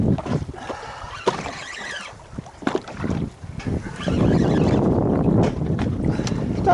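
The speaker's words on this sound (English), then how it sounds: "It's not too windy, it's just kind of a little bit breezy out here. It sounds terrible on the microphone." Breezy wind buffets an outdoor microphone while people fish, giving gusty rumbling bursts that come and go and then settle into a steadier roar, with faint voices in places.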